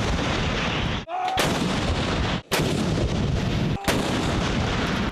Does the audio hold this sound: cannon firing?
yes